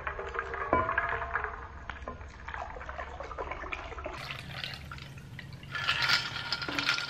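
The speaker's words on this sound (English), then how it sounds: "all I'm going to do is pour this right in." A low-carb daiquiri cocktail mixture pours into a glass, with a continuous liquid trickle, small splashes and a fuller gurgle near the end, close and moderately quiet.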